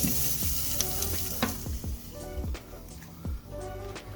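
Quiet sizzling of sous vide ribeye steaks on a hot grill, a soft steady hiss with a few faint crackles and clicks.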